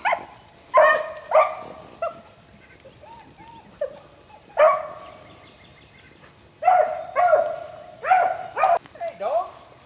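Hunting hounds bay and bark on a long chase, with repeated loud, ringing yelps arriving in uneven bursts, some closer and some farther, over outdoor background noise.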